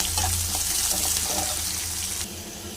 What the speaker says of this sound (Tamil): கொஞ்சமாக பொடிசையாக நறுக்கிய வெங்காயம் கொஞ்சம் வதங்கட்டும்